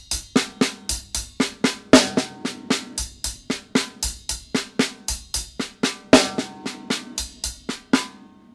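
A drum kit plays a double-sticking half-time groove without any kick drum: crisp, evenly spaced hi-hat and snare hits in a repeating pattern with periodic heavier accents, close and clear, with no voices.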